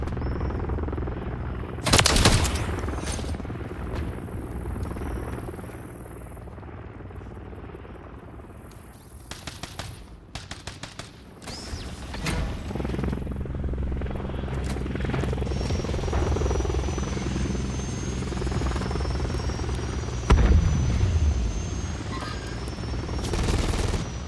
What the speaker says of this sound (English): Overwatch helo inbound